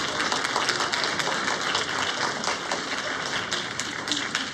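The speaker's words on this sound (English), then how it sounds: "would every single student that is in this auditorium please applaud and thank your families" Students in a school auditorium clap at a winter concert, a dense, steady patter of many hands at moderate distance that continues evenly throughout with a faint crowd murmur beneath.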